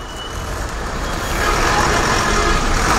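Slow-moving road traffic jammed up near a bridge by Mangalagiri, with trucks and buses rumbling as a steady low engine drone that swells slightly over a few seconds, broadband and fairly close.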